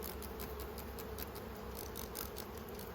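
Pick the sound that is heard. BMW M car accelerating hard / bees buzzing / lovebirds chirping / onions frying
bees buzzing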